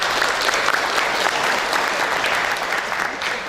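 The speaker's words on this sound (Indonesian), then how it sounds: "Tepuk tangan buat Anda semua." A crowd at a university graduation celebration claps steadily and loudly throughout, a dense continuous wash of applause.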